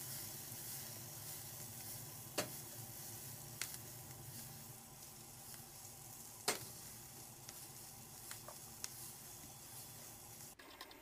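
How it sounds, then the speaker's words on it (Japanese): Onions sizzle in a covered pan, a faint, steady frying hiss broken by a few sharp pops and small clicks, with no talking. "次玉ねぎを焼いていきます"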